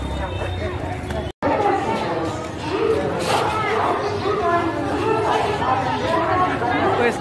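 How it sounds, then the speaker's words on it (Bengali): Dense crowd chatter on a busy railway station platform, many overlapping voices close by and continuous, with a brief dropout early on. "কি ভিড় দেখো"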